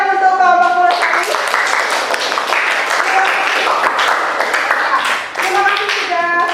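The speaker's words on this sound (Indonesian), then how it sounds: "Kita beri tepuk tangan untuk kelompok Pulosari." Students and classmates clap for a school group presentation, steady loud applause across the whole clip, with voices and children's chatter mixed in at the start and end.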